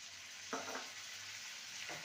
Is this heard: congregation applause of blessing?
no